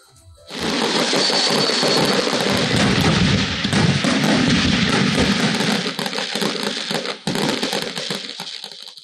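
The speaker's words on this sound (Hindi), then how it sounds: "शहर शहर आतिशबाजी का शानदार मुजाहरा भी हुआ है" Fireworks for New Year celebrations in Pakistan, with dense, continuous crackling and booming bursts overlapping loudly throughout, thumps mixed with sharp high crackle, and a brief dip near the end before the barrage resumes.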